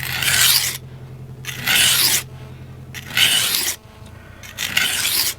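A kitchen knife slides across the fine grit of a sharpening stone in four loud, rasping strokes, evenly spaced, with short quiet pauses between them.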